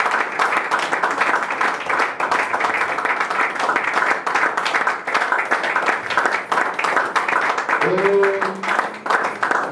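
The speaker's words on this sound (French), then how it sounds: "Acclamons Jésus, acclamons Jésus." Church congregation applauding in praise of Jesus, dense continuous clapping with voices mixed in and a short sung or spoken tone near the end.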